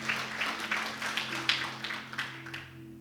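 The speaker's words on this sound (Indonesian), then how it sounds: "Berikan tepuk tangan bagi Tuhan." A church congregation at a New Year's Day service claps in a steady rhythmic pattern, moderately distant, over a sustained low tone.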